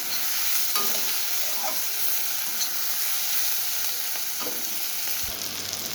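Tomato fries in a pan over a lowered gas flame, giving a steady close sizzle and hiss with a few soft scrapes and knocks of stirring, and no voices.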